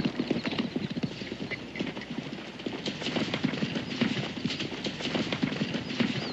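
Horses pulling a hitched wagon at a frontier homestead clip-clop steadily and nearby, their hooves beating a continuous brisk rhythm with wheel and harness rumble underneath, and no voices.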